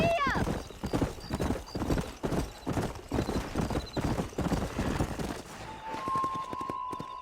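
Horse hooves clatter in a fast, rhythmic gallop across open ground in Red Dead Redemption, loud and continuous, with a whinny at the start, riders talking over the hoofbeats, and a tonal chime near the end.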